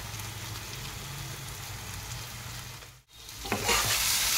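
Ground chili, cumin, coriander and Kashmiri chili powders frying in a pan for egg lababdar, a steady close sizzle with continuous stirring that dips briefly near the end before rising again, louder and brighter.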